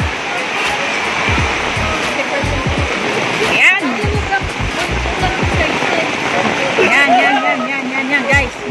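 Heavy rain pours steadily at Baseco beach, a dense continuous wash of water noise close by, with people talking and calling out over it throughout.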